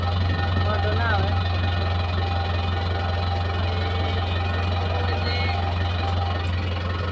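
A tractor engine idles on a farm field with a steady, deep throb that holds at an even level throughout, close and continuous, while a voice talks over it.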